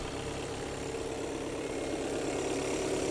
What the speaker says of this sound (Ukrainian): Двигунчик працює рівненько